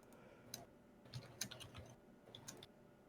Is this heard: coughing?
no